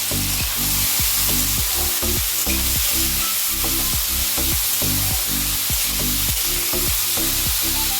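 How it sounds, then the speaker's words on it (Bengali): Panch phoron and dried red chillies fry in hot oil, producing a loud, continuous, hissing sizzle that holds steady throughout. "দেখুন পাঁচফোড়ন দিলাম, শুকনো লঙ্কা, দুটো একসাথেই ভাজবো"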